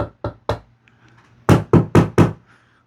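Knocks on an installed 6 inch LED recessed ceiling light, three quick solid raps, a short pause, then four louder evenly spaced knocks, close and dull-sounding.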